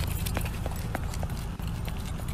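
Hooves clip-clop in a quick, uneven rhythm against a loud, dense background.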